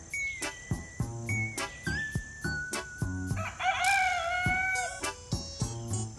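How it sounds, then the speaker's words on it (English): A rooster crows close by with a loud, drawn-out, wavering call in the middle, surrounded by sharp clucks and short clicking calls at a farm, with a faint whistle-like chirping underneath. "Here's this rooster."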